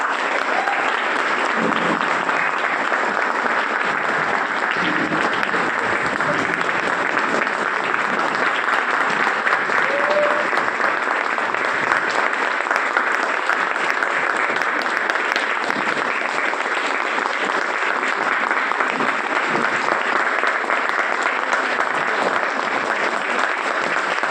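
A workshop audience gives sustained, dense applause welcoming a guest trainer and speaker, steady and loud from start to finish with no break.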